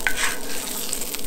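Breakfast food being pushed around a hot camp pan with butter on a solo desert trip, a short close scrape and stir over a steady frying sizzle.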